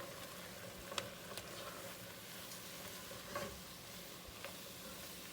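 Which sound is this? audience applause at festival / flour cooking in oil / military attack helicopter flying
flour cooking in oil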